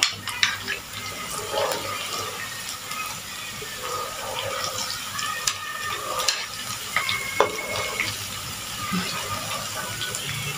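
Spice paste sautés in hot oil, giving an uneven sizzle mixed with stirring scrapes and occasional clinks, fairly close and without talk.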